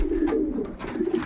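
Caged pigeons, newly vaccinated, give off soft low cooing that rolls on continuously and close by, with a few faint rustles and flutters mixed in.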